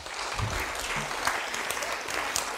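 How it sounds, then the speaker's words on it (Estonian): Audience applause at a health conference on sport and nutrition, steady mixed clapping from a seated crowd welcoming the next presenter, filling the whole moment without any talking. "võtame ta hea aplausiga vastu"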